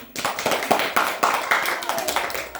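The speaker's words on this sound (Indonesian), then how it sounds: "Tepuk tangan untuk Brian" A classroom of students claps for a classmate, a quick rhythmic burst of hand claps, fairly close and loud, lasting a couple of seconds.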